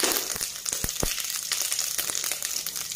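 Whole chillies and cumin seeds hit hot oil in a pan for a curd-based okra dish, giving a steady close sizzle with crackling pops and a few sharp spitting bursts.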